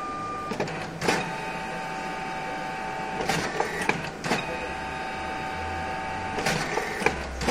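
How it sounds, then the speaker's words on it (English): An Olmec OP1000 printer runs at a fairly fast pace, a steady close mechanical whir with a faint tonal hum, punctuated by repeated sharp clacks and thumps every second or two. "As you can see, it's a fairly decently fast printer."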